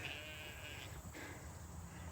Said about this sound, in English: I don't want all these sheep to come in here.